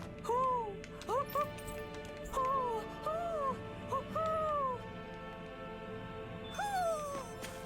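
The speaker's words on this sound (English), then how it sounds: "There's an owl somewhere over here." An owl hoots in the forest of the video game Tales of Arise, several soft two-note hooting calls repeating at uneven intervals over a quiet ambient game background.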